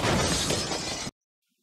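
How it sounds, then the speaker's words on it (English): Glass shatters in a loud, dense crash as a vehicle slides into accident wreckage on a honey-slicked road, the burst lasting about a second before cutting abruptly to silence. "but I slipped right into the accident"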